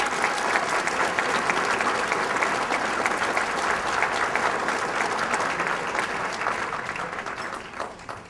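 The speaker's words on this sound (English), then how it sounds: "will you also join me in a round of applause for all of the sponsors, donors, and volunteers that have made this event possible this evening?" Steady, full audience applause at an evening charity event, honoring sponsors, donors and volunteers; dense clapping holds loud and even for about eight seconds before tapering slightly at the end.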